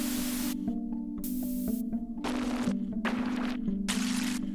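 Bursts of hissing synthesized noise from a physical modeling synth switch on and off in an uneven rhythm over a steady low electronic hum, close and moderately loud.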